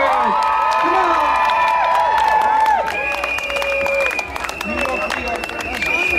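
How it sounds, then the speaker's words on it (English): An outdoor crowd at the Bristol Pride 2018 drag stage cheers, whoops and claps loudly for drag queens, with shouting voices and a lively roar running throughout. "Give them a round of applause."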